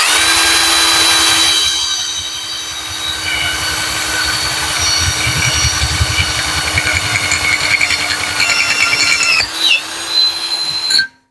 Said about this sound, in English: Gonna upgrade to a bigger drill.